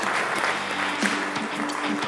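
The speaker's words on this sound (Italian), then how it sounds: "Un applauso a tutti i papà" A studio audience on an Italian sports talk show gives a short, steady round of applause for all the fathers, with a low hum underneath.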